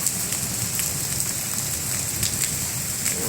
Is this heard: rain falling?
yes